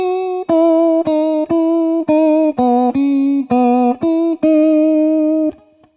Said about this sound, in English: Pitch Vibrato.